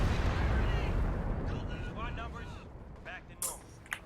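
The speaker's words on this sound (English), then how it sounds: "another stupid dive bomb come in" A dive bomb strike in Company of Heroes 2 lands as a heavy rumbling explosion that fades out, followed by a couple of sharp distant bursts, with faint speech underneath.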